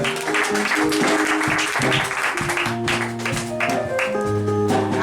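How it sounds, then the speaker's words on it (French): A church congregation applauds during a worship service, clapping blended with sustained music tones, steady and fairly loud throughout. "On applaudit pour le Seigneur."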